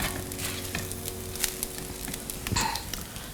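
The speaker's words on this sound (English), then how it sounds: "So I'll keep stirring this until I'm sure the rice is heated through" Fried rice with vegetables stirred in a hot pan, with a steady sizzle and scattered scraping strokes, a low background hum and a sharper clatter near the end.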